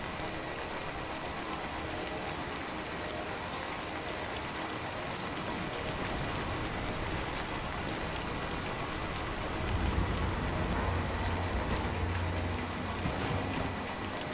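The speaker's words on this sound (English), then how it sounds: "it's raining right now" Dense, broadband rain pours steadily in the Death Stranding game world, a loud continuous wash with a low rumble swelling near the end and no voices.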